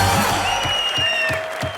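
A studio audience at the Comedy Nights With Kapil taping claps for Shah Rukh Khan: steady, dense applause with some crowd cheering, mixed with sustained music tones throughout.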